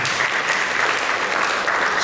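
Church congregation applauding during a sermon, a loud, dense and even roar of many clapping hands close by, sustained without a break and with no talk over it.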